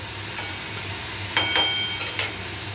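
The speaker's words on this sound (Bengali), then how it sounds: "উচ্ছে কুমড়োর ভাজা বসিয়ে দিলাম অল্প একটু লঙ্কা দিলাম" Bitter gourd and pumpkin with a little chilli, salt and turmeric fry in hot oil in a pan, a steady close sizzle broken by a few brief stirring scrapes, with no talking.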